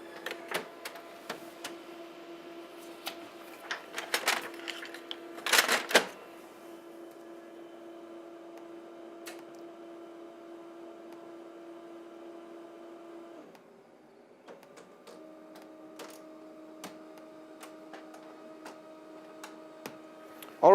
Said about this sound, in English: While the printer is printing our designs